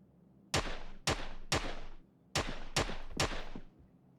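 Six sharp gunshots ring out in an action shooter video game, coming in two quick groups of three. Each shot is loud and close, with a short decaying tail.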